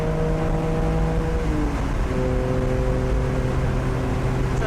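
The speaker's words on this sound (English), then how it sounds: "Nice engine noise echo off the wall over here." Steady car engine drone at a track night at Memphis International, sustained harmonic tones that shift pitch midway, reverberant as if reflecting off a nearby wall, loud and continuous.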